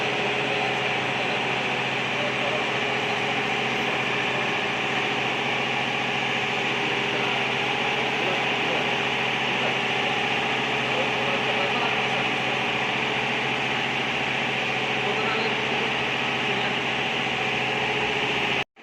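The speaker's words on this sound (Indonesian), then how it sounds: "Jadi mesin ini mesin skala industri memang besar." A custom-built industrial-scale coconut oil processing machine runs steadily, a dense continuous mechanical hum and whir with a broad noisy hiss, constant in level throughout with no break.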